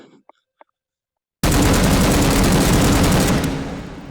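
Russian rifle with its stock folded, fired one-handed in the VR shooter H3VR: after a few faint clicks and near-silence, a loud, dense full-auto burst erupts and roars continuously for over two seconds before tapering off.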